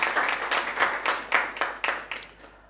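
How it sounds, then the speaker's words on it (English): Scattered clapping from a small audience after a debate match between the Jamaica Tourist Board and Jamaica Trade Board Limited, with a dozen or so distinct claps at a loose, uneven rhythm, moderately close and fading at the end. "May I invite you to give them a round of applause for a job well done."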